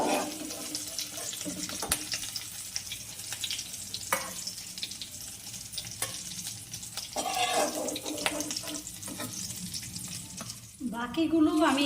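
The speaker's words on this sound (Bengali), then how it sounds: "বাকিগুলো আমি এভাবে ভেজে নিব।" Stuffed teasel gourd (kakrol) frying in oil in a pan, a steady close sizzle with occasional clinks and scrapes of turning, louder bursts of spattering near the end.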